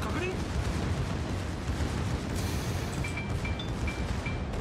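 Battleship guns fire shells in World of Warships, a dense, rumbling barrage of booms and blasts rolling continuously, loud and heavy, with faint high pings layered over it and a voice talking beneath.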